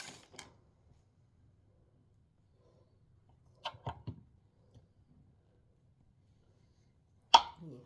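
A knife cuts butter into small pieces in a few soft, separate chopping taps and thuds against a board, scattered through quiet stretches, with one sharper knock near the end.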